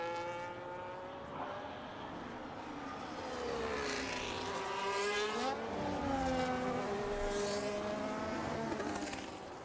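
A single race car on a hot lap around Suzuka in a racing game whines through gears, its engine note sweeping up and down through corners, steady and fairly close with no voices.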